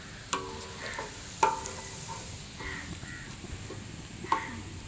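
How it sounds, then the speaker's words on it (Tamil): Fennel seeds frying in hot coconut oil while being stirred, with a low steady sizzle and a few clinks of a spoon against the pan, mixed with faint crow calls in an outdoor village setting. "தேங்காய் எண்ணெய் வந்து நல்ல சூடாகிட்டு இப்போ பெருஞ்சீரகத்தை போடுங்க ஹரிஷ்"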